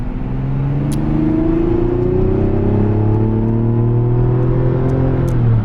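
Loud engine roar rising steadily in pitch as a turbocharged 2024 Mazda CX-90 SUV accelerates hard on a public road, heard from inside with constant road rumble.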